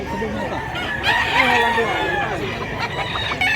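A white rooster crows amid a busy rural Cebu gamefowl setting, its call rising over steady background babble and other fowl clucking nearby.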